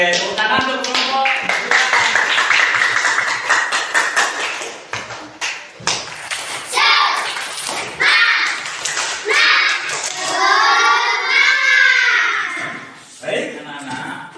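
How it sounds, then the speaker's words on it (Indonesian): A classroom of children applauds a student group, a dense burst of clapping that rises and falls over several seconds, mixed with children's chatter and a teacher's voice. "tepuk tangan untuk kelompok"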